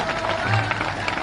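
A crowd applauds at a chief minister's public election rally in Sumawali, Morena, Madhya Pradesh, a dense, steady wash of clapping and crowd noise with voices mixed in throughout.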